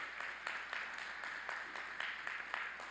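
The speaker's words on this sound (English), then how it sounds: "Let's give them a big round of applause for getting you to this point." Faint, sparse clapping from a commencement audience applauding standing faculty members at a university spring graduation ceremony, a handful of separate claps spread across a few seconds.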